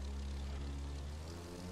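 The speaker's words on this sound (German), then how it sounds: "Man muss das Flugzeug ziemlich gerade halten." A propeller airplane engine in The Crew 2 drones steadily and loudly throughout, a constant buzzing hum with no pauses, with no voices heard.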